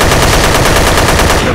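Rapid automatic gunfire from the player's weapon in the video game Dead Effect, a loud, dense stream of close shots that runs without a break.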